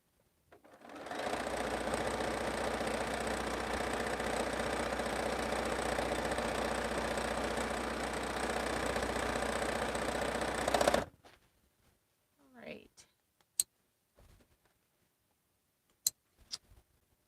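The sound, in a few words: sewing machine sewing a quilt seam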